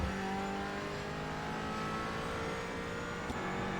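Engine of a McLaren 570S GT4 race car on track in a racing simulator, a steady loud drone with no clear revving or shifts, alone without talk.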